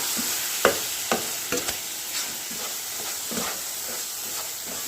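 A spoon stirs a poha laddu mixture with milk in a pan over low heat, giving scattered scraping taps against the metal over a soft, steady sizzling hiss.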